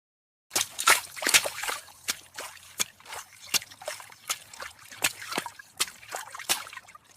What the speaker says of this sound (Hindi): बारिश का पानी अंदर आने लगा